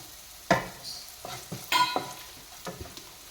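Shallots, garlic and fenugreek frying in a pan, with a few sharp stirring scrapes and clatters over a soft, steady sizzle, close and fairly quiet.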